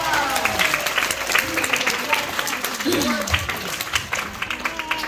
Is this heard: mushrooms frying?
no